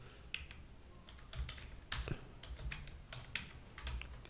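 Code typed on a computer keyboard for a PHP tutorial, heard as close, quiet clusters of quick key clicks with an occasional heavier keystroke, in uneven bursts throughout, with no talk.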